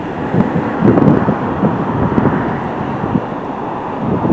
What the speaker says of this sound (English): It's windy here.